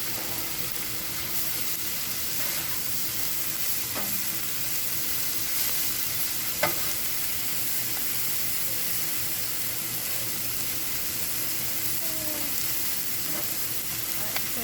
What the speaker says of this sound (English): So generally I will mix it all up, flinging rice everywhere